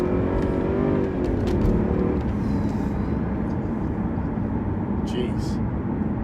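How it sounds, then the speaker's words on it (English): Mercedes W220 S500 V8 engine pulling hard from inside the car, a loud continuous roar climbing as it shifts from second into third gear, with a voice exclaiming over the noise. "it makes a hell of a noise. That was second gear going into third gear."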